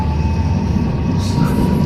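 Festive holiday tram riding through Saltivka in Kharkiv on a January day, a loud, continuous rumble of wheels and motor with a steady electric whine, heard from inside the car.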